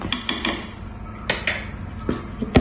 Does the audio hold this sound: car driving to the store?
no